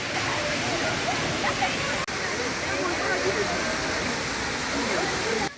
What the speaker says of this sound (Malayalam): ഞാൻ ആദ്യമായിട്ടാണ് വെള്ളച്ചാട്ടത്തിന് ഇത്രയും ക്ലോസ് ആയിട്ട് പോകുന്നത്